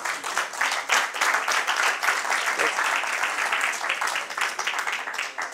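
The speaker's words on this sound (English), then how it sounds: "big round of applause for them" An audience at a stop-smoking talk gives a big round of applause for the technical support and interpreters, dense, loud clapping that holds steady and close before thinning slightly toward the end.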